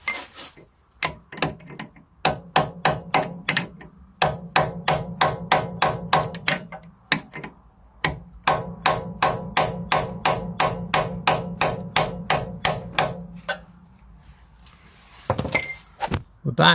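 Rapid, evenly spaced hammer blows on a steel chisel against a seized nut on a car's front shock absorber lower stud, sharp metallic strikes in long bursts with brief pauses, close and loud, ending in a few scattered knocks.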